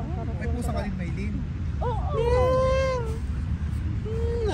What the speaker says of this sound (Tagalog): May pusa ka din, Maylin.